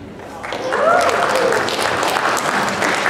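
A live convention crowd at SGC 2015 applauds continuously for about three seconds, a dense, steady wash of many hands clapping that swells slightly after the first half-second, with a few faint whoops or whistles riding on top.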